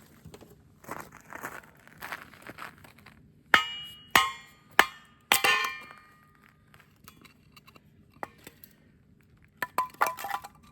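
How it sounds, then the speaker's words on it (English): A dull axe splits firewood at a freezing-weather campsite: four sharp, loud wooden cracks land in quick succession, then a few fainter knocks follow after a pause, with no talking. "While that's going, we'll chop some wood."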